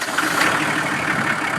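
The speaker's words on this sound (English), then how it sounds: "it starts the engine." A Kubota M4050 two-wheel-drive diesel tractor engine runs steadily just after starting, a continuous close mid-pitched idle rumble with no talk.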